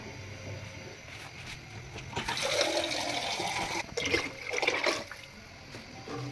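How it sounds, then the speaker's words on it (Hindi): Water is poured into a pot of sobat, a traditional Dera Ismail Khan broth-and-bread dish, making a steady splashing gush that swells in the middle and fades toward the end, with no voices. "अब इसमें और भी हमने पानी ऐड करना है"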